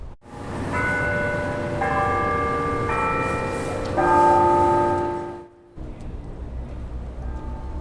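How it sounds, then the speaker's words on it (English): Church bells ring out in overlapping, sustained tones, loud and resonant, on the afternoon of Pope Francis's funeral, then cut off into a steady outdoor background hum. "Hear the church bells, they're ringing this afternoon."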